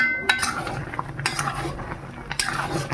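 A spoon scrapes and clinks steadily in a pan as sweet-sour jujube pickle with spices and broken dried red chillies is stirred, giving irregular metallic taps over a low background.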